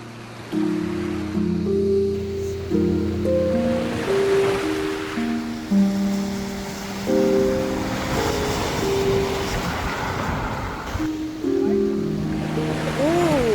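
Ocean surf breaks on the shore of St. Thomas or St. John in the US Virgin Islands, where the Caribbean meets the Atlantic, a continuous rushing wash partly masked by melodic music playing over it.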